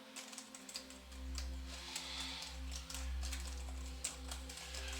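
Keys tapped on the SteelSeries per-key RGB keyboard of an MSI GP76 Leopard 17-inch gaming laptop, a run of light clicks over a steady low electrical hum.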